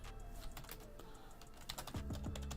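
Rapid typing on a computer keyboard, a dense run of key clicks with a few heavier thumps near the end, close by and fairly quiet, with no voices.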